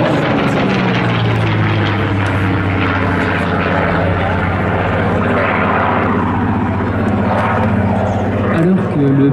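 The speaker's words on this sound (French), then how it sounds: "Ils en choisissent un qui s'appelle le Curtiss Commando" A Curtiss C-46 Commando propeller transport plane flies past at an airshow with a loud, sustained engine drone that stays steady throughout, with crowd or announcer noise mixed in.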